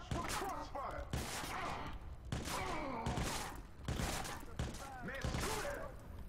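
Gunfire crossfire in the PC game Watch Dogs: dense bursts of shots and thumps crackle steadily throughout, loud and close, with vocal grunts mixed in.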